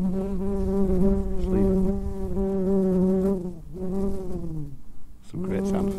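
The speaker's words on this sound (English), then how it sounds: "we've got a bee trying to fuck our microphone at the moment" A bee buzzes right at a microphone, loud and close, its droning tone wavering and dipping as it moves about, with brief breaks in the hum.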